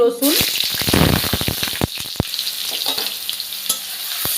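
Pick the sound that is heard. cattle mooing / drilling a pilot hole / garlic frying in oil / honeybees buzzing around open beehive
garlic frying in oil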